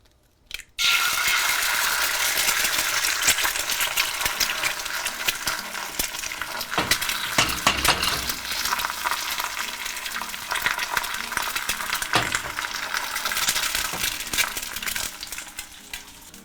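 Steady, loud sizzling and crackling of an egg frying in very hot oil, continuous throughout after a brief quiet start.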